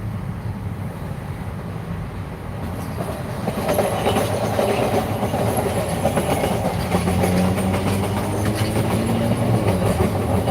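A train rumbles past close beside a car, its steady rolling roar and rail clatter building loudly after a few seconds and continuing with occasional wheel squeal and a brief horn-like tone.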